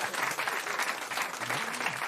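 An audience claps together in steady, moderately loud applause for a couple of seconds, with a faint voice briefly audible underneath.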